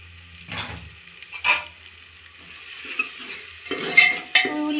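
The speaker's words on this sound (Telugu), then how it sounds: "ఉల్లిగడ్డ బ్రౌన్ కలర్ వచ్చే వరకు గోలించుకోవాలి" Onions frying in a pan for goat head curry, with intermittent stirring scrapes and a soft sizzle building toward the end; no voices.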